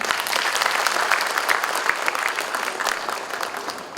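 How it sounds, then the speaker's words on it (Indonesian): An audience at Festival TIK 2015 applauds in steady, dense clapping that fills the room, loud and sustained before easing slightly at the end. "Mohon tepuk tangan."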